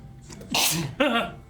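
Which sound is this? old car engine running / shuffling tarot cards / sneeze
sneeze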